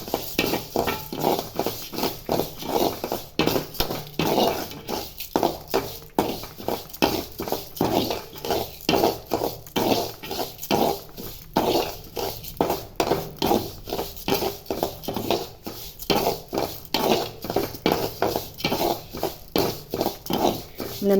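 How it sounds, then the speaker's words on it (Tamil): Urad dal being dry-roasted and stirred in a pan for idli podi, a quick steady rhythm of scraping and rattling strokes, close and fairly loud, repeating for the whole stretch. "உளுந்தம்பருப்பை போட்டு வறுப்போம். உளுந்தம்பருப்பு நல்லா சிவக்க வறுக்கணும்."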